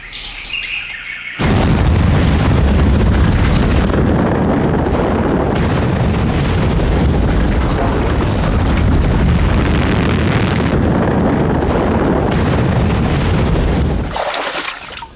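A massive volcanic eruption blast of Toba on Sumatra, a sustained loud roaring boom with dense rumbling that starts abruptly and fades near the end.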